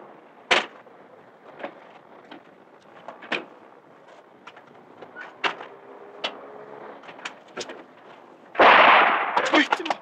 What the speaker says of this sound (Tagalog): Putok ng baril yun ah.